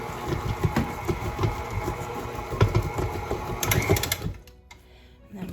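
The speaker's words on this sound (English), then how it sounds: "You're not going to mix it very much, just enough to get the chocolate chips mixed into the dough." A stand mixer churns chocolate chip cookie dough with a steady mechanical whir and rhythmic thumping, running loud and close for about four seconds before it switches off, leaving quiet.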